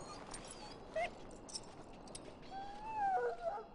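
An injured, very ill dog in the video game Dragon Age Origins, whimpering and whining in thin high cries over a faint background, rising into longer plaintive whines toward the end.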